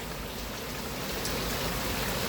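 Steady, heavy rain pours down continuously, a dense close hiss filling the whole moment with no voices.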